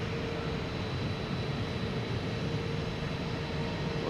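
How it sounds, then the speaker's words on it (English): A Virgin Atlantic airliner taxis at Boston Logan Airport, its jet engines making a steady, broad rumbling roar with a faint high whine that holds even throughout, no one speaking. "we got Virgin Atlantic coming around the corner here"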